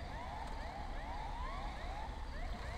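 Police car and ambulance sirens wail together in street traffic, their rising and falling tones repeating steadily at a moderate distance over a constant low rumble of engines and road noise.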